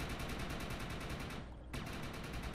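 Rapid, steady bursts of automatic weapon fire from the brood lobber in the Defiance video game PvP match, a loud, dense rattle with a brief gap near the middle before firing resumes.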